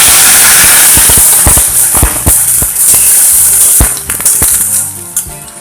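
Ground spice paste hits hot oil in a pan for a vegetarian Bengali dhokar dalna, giving a loud, bright sizzle with scattered crackles and stirring clatter that gradually quiets.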